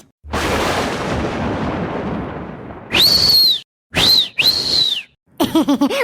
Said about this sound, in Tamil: மாஸ்டர் மாஸ்டர் விசில் ஊதுறவ வந்துட்டான்